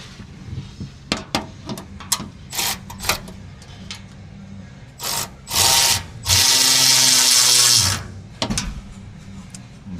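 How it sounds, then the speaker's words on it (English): Ratchet with a 7/16 socket tightening roof bolts on a Polaris Ranger 1000 Northstar metal top, heard as bursts of clicking and rasping, building to a sustained loud whirring stretch near the end, with no talk. "with our 7/16 1/4-inch socket on our 1/4-inch ratchet,"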